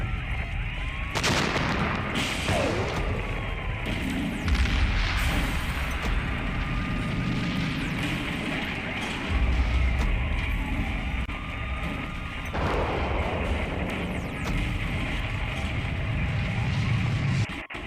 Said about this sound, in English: We have destruction, crumbling, explosion noises. We have cop sirens in the background racing around.